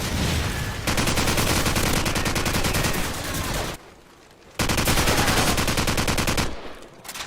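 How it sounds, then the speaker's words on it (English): Rapid AK rifle fire in Call of Duty 4 (2007), loud sustained automatic bursts with a brief pause near the middle and another lull toward the end. "Listen to this gun."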